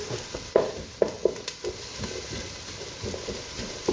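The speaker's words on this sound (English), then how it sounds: "add the onions there. A bit of a stir." Onions frying in a pan for risotto, a quiet steady sizzle with several sharp clacks and scrapes as a spoon stirs them, close and without talk.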